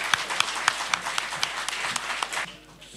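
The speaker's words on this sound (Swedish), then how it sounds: "Men en varm applåd och stort tack för att ni kom hit och gjorde den här kvällen möjlig." An audience at an evening panel event applauds to thank the speakers. Steady, fairly close clapping with sharp individual claps runs for a few seconds, then fades out.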